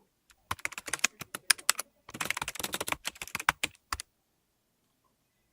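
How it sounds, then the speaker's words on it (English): Typewriter keys struck in quick, uneven bursts in a short film scene, close and crisp with pauses between runs and no other background sound. "We're only hearing the sound of the typewriter"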